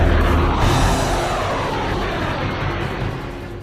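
Fixed-wing Indian Air Force fighter aircraft flying over the heights of Kargil, a loud, steady engine roar that fades gradually over a few seconds, with no voices.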